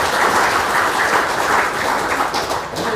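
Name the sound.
audience applause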